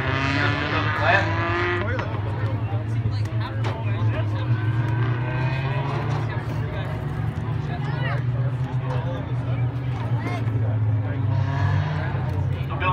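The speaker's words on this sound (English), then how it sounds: "The FX Cabrera pace truck gathering up the field behind it" Thunder Stocks race cars idle and rumble in a low, steady pack as they follow a pace truck around the track, with continuous engine drone and a commentator speaking throughout.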